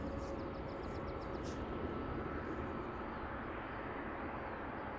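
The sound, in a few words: Ryanair jet engines, plane taking off at Luton Airport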